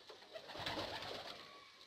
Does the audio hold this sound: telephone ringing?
no